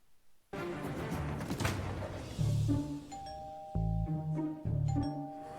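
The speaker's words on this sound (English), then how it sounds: "What's that fucking doorbell that keeps on going off every 2 minutes?" A doorbell chimes ding-dong several times in succession in a restaurant kitchen, clear tones repeating over a low background murmur and clatter.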